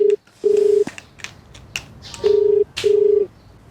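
A phone call is dialed, with a sequence of short touch-tone beeps interrupted by clicks, then steady ringback tones sounding in regular bursts, clear and close with no talking.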